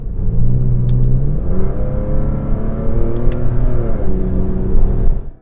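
A Porsche 996 911 sports exhaust revs loudly and close, a deep throaty engine note climbing and falling in pitch over several seconds before cutting off.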